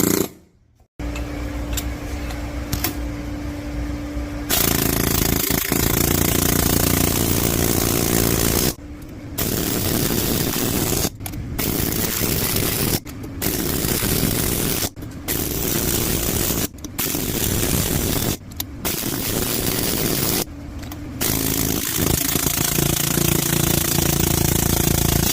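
Valve guides are driven into a Ford 351C cylinder head with a loud pneumatic hammer, firing in long bursts separated by brief pauses over most of the stretch.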